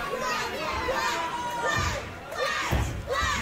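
A wrestling arena crowd on its feet, a dense roar of cheering and shouting voices that swells and surges throughout, with a commentator talking over it.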